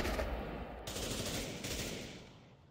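Rapid gunfire in the Pavlov VR shooter game during a competitive match, a dense burst of shots that fades out over a few seconds, loud and without talk.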